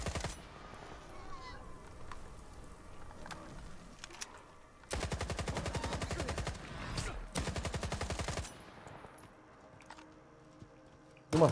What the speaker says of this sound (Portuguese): Ele dá quantos tiros no bicho?